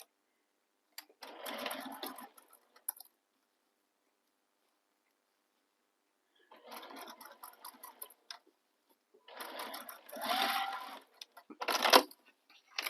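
A sewing machine stitches a seam on a handmade bag in several short bursts of rapid mechanical whirring, separated by silent pauses, close and clear with no talk.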